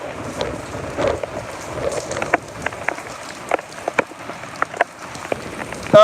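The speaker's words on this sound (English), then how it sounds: "You can hear the rain slapping on my face." Heavy typhoon rain patters steadily, with sharp close drops slapping irregularly against a person's face near the microphone and wind underneath.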